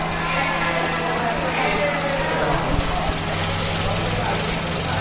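Car air-conditioning compressor on a running engine, its magnetic clutch engaging with a brief clunk before the compressor spins; a loud, steady mechanical drone and rattle throughout, close by, with a voice talking over it.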